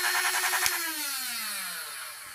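Flywheel motor of a Newisland Field Arms Super Blaster Sharp Shooter toy foam blaster revving up then spinning down, a loud steady whine that falls in pitch, heard close with a click.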